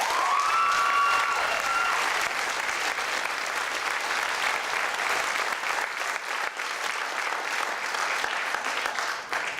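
Audience applause for the faculty at the 2013 Lake Region State College commencement, sustained, dense clapping from a large crowd that carries on steadily for nearly ten seconds, with a brief whistle near the start.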